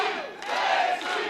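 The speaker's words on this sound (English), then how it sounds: "This crowd rallying behind her." Wrestling arena crowd cheering and shouting in unison to rally behind a female wrestler, a loud, dense burst of voices lasting about a second.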